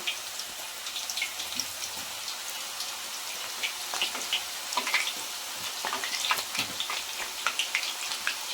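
Banana slices for banana chips frying in hot oil, a steady soft sizzle scattered with crisp pops and crackles, fairly quiet and continuous with no talking.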